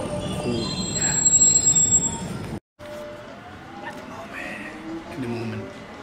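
A London Underground Jubilee line train's wheels squeal and screech along the rails, with a rumbling carriage underneath and a brief drop to silence midway; people talk nearby.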